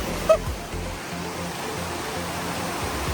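A river flows near a hidden waterfall in Luang Prabang, Laos, making a steady broadband rush of water that stays loud and even throughout.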